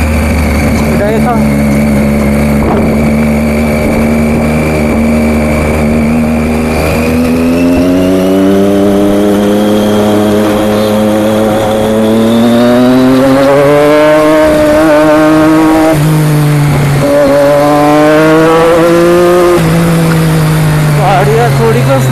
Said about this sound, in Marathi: आवाज खूप मस्त आहे रे. अजून तर मी सायलेन्सर लावलेला पण नाही आहे भाई.